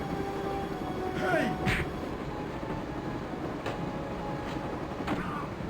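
A train in the video game Broken Sword: Shadow of the Templars rumbles steadily along the rails, with a few clanking squeals and rail clicks over a continuous low roar, with a voice talking faintly over it.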